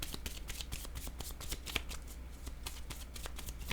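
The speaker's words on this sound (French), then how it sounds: "Donnez-moi une minute, je vais déposer une autre carte." A deck of cards is shuffled and riffled close by, with quick crisp flutters and snaps, and a card is laid down on a table.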